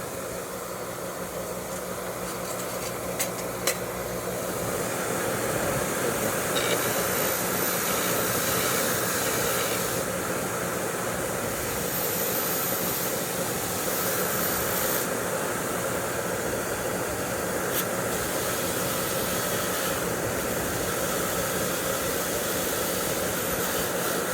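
An air hose blows compressed air to clean the spark plug of a vintage Homelite 7-19 chainsaw, making a loud, continuous broadband hiss that holds steady throughout with slight surges and no voices.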